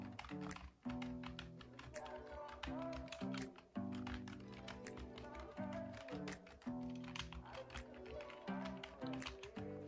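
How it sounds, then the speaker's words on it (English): A gaming computer keyboard clatters in a steady, dense run of keystrokes, heard close up over a loud background of music with a repeating tonal pattern. "a sound test on the keyboard"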